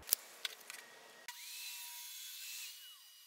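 A few sharp knocks and taps, then a steady rasping cut through a scrap wood board being cut to width, continuous and fairly close.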